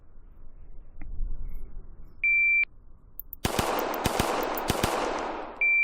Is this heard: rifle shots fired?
yes